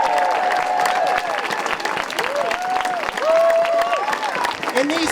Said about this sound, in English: Let's give a big round of applause for all of our organizers